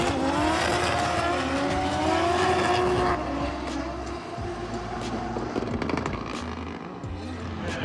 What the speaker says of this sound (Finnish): Katsotaanpa kun tulee nyt autot.